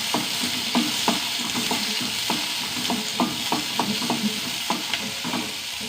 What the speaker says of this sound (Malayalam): അഞ്ചാറ് ഉള്ളി ഒന്ന് വഴണ്ട് വരട്ടെ